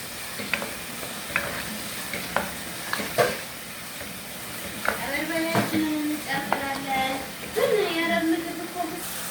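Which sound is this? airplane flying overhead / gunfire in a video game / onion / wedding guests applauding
onion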